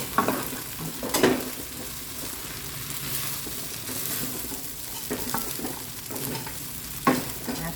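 Vegetables for stir-fried noodles sizzle steadily in a hot wok over moderate heat, broken by a few sharp scraping stirs of a spatula against the pan.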